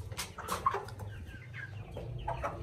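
Chickens at an outdoor market cluck repeatedly up close, with soft market bustle in the background.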